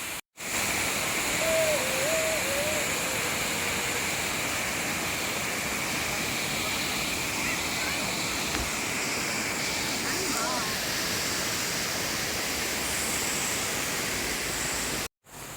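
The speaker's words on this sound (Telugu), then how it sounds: "మొత్తం వాటర్ ఫాల్స్ ఇక్కడంతా" A waterfall in Munnar, Kerala roars as a dense, continuous wash of rushing water, loud and steady throughout, with brief faint voices rising above it.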